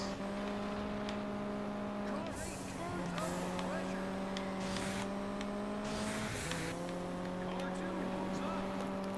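Steady engine drone in a Juiced 2: Hot Import Nights street race, with the pitch holding high and shifting as the nitrous boost kicks in, a continuous loud roar with faint talk underneath.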